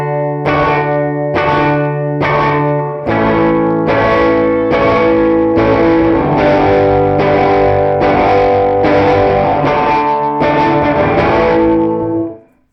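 Distorted electric guitar through a reverb pedal with a gate effect plays repeated strummed chords in a steady rhythm, each cut short with choppy gaps, ending in an abrupt cutoff.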